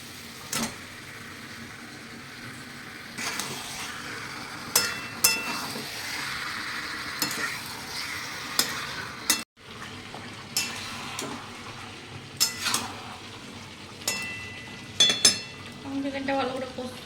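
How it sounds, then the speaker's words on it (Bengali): Chicken with tomato and spices sizzles in a pan at a home stove, the steady low frying broken by sharp scrapes and clinks of a spoon stirring against the metal, with pauses between strokes. "চিকেনটা ভালো করে কষে নেবো।"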